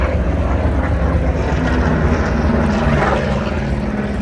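A Vought F4U Corsair propeller fighter at the Wings Over Illawarra air show, its piston engine giving a steady loud drone that holds throughout without pause.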